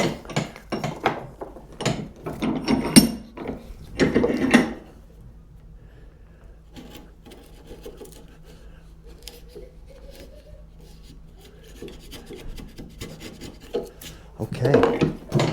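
A chisel pares wood for a cross halving joint in short, close rasping strokes, bursts of scraping separated by quieter pauses, with a final flurry of cuts at the end.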